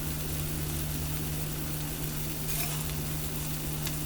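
Whole wheat pancakes frying in a pan give a steady, even sizzle over a constant low hum, close and unbroken, with no talk and only a faint tap near the middle.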